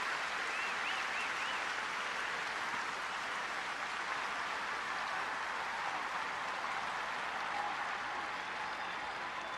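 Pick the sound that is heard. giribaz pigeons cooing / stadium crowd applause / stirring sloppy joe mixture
stadium crowd applause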